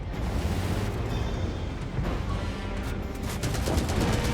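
Tank cannon fire in the E 65 Zwilling tank video game: a dense, loud, continuous roar of gunfire and rumbling blasts, with a sharper burst of rapid cracks toward the end.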